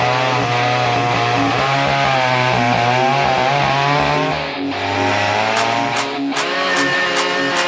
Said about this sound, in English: All right, so this is a coworker's chainsaw.